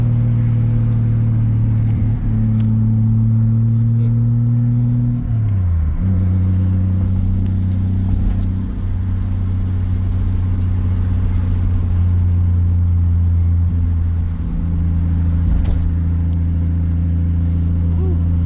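Mk3 car engine droning steadily at a held pitch, then dropping and settling into a lower hum, a loud continuous close rumble, with faint talk in the background.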